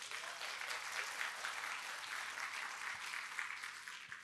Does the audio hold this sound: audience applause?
yes